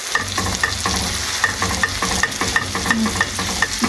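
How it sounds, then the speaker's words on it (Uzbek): Onions and minced meat sizzle in a hot pan while a utensil stirs them, with rhythmic scraping knocks recurring over a constant close frying hiss. "Ikkita katta piyoz qovurib oldim. Endi ozgina qiyma tashladim ichiga qizlar."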